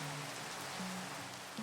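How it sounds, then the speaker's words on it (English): Steady rain falls in the Minecraft game world, a continuous even hiss of drops on surfaces with no talking over it. "the perfect time for it to start raining"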